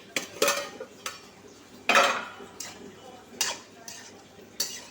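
Red spinach greens with fried lentil dumplings being stirred in a pan, a series of sharp spatula scrapes and clinks at an irregular rhythm over a faint sizzle, close and fairly loud.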